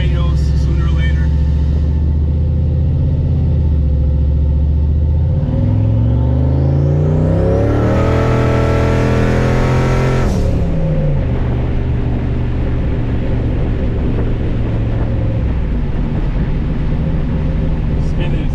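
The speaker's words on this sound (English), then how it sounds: "Spinning the tires." A turbocharged SN95 Ford Mustang spins its tires, its loud engine rumble climbing into a high-revving scream that holds for a few seconds, then drops back to a heavy, rough idle and burble.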